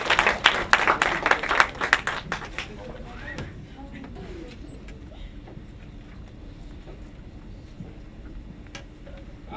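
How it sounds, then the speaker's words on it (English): An audience applauds a winning student project group as it is called down to present; a burst of scattered, close clapping for about three seconds, then it fades into quiet room noise with talk. "Let's give you a big round of applause"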